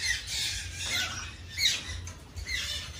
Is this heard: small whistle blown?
no